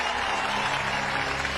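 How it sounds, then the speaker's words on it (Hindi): A live crowd at a comedy show claps steadily and loudly, a dense, continuous wash of applause with no break. "बजाओ ताली"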